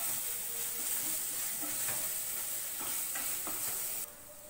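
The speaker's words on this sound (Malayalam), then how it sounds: "അതും ഇട്ടിട്ട് നമുക്ക് നന്നായിട്ടൊന്ന് വഴറ്റിയെടുക്കാം." Curry leaves sauté in hot oil in a pan for a Kuttanadan-style duck roast, a steady close sizzle with a few soft stirring knocks, and the hiss drops off near the end.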